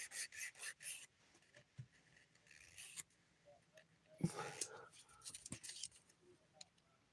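Nails being filed to sharpen the free edges during a dip-powder stamping manicure, with short close rasping bursts at the start and a few more scattered strokes later, separated by quieter stretches.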